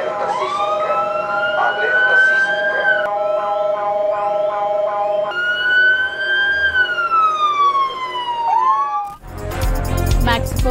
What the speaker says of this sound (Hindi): मैक्सिको सिटी में जल्जले से बचाव की सालाना मश्क के दौरान सायरन की आवाजें गूंज उठी।